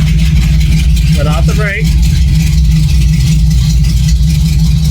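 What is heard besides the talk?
Ford Ranger engine starting and idling with modified exhaust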